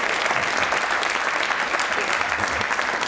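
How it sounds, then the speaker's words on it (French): A television studio audience applauds in a dense, continuous wave of clapping that holds evenly loud from start to finish, with no pauses. "je crois qu'on peut applaudir Yves Lecoq"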